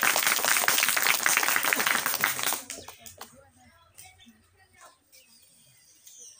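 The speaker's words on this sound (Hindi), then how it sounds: "अमन कुमार के लिए जोरदार तालियां हो जाए।" Loud, dense applause from students at a coaching institute's Children's Day event for a trophy winner, a sustained crowd of hands clapping that stops abruptly, leaving a quiet room with small scattered noises.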